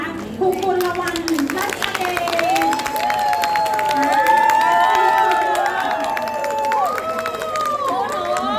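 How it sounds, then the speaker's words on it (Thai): An audience at a school opening ceremony for a Happy Band claps steadily for a teacher, with cheering and children's shouts rising above the crowd; someone talks through it over a microphone. "ขอ เสียงปรบมือนะคะ"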